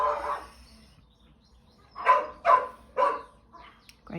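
Outside a house, a passing dog gives a few sharp barks in a quick sequence after a quieter lead-in, moderately close.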